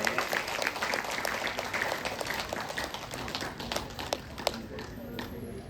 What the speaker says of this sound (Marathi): टाळ्या वाजवण्यास काहीही हरकत नाहीये.